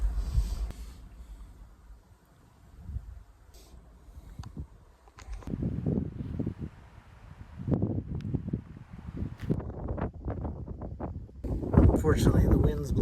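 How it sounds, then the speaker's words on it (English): Gusty outdoor wind at Hudson Bay near Churchill in September buffets the microphone in uneven rumbling bursts, rising and falling and growing stronger toward the end, with no speech. "Unfortunately, the wind's blowing"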